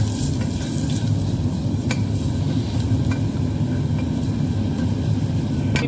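Cinnamon and chopped onion temper in hot oil in a pan for Arabic-style chicken, giving a loud, steady sizzle with occasional light scraping clicks from stirring and no voices.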